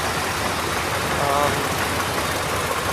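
A 1991 GMC truck's 400 engine idles steadily and loudly with a constant rumbling drone, close up and unchanging throughout, with slight exhaust leaks.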